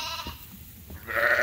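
Sheep and lambs bleating on a ewe farm: a few short bleats, one loud cry at the end, fairly close, with no talking.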